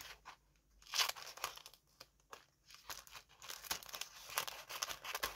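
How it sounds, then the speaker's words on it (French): Scissors cut paper along a fold line, making soft crisp snips and crinkling rustles in irregular bursts, close but faint, with no talking. "je vais couper au trait, au pli, là"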